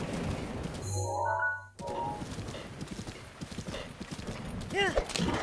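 Rhythmic clip-clop of horse hooves at a steady gallop in The Legend of Zelda: Breath of the Wild, with a brief whinny and a voice talking over the hoofbeats.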